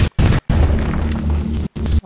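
A homemade rocket grenade blast in Halo 1, heard as a loud, booming explosion with a sustained rumble, broken by a few brief silent gaps, close and dominant with no talk.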